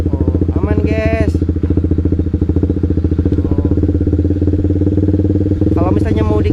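Motorcycle engine with a manual clutch running steadily and close as the clutch is slowly let out and the bike pulls away, a continuous low drone with brief overlaid tones near the start and end.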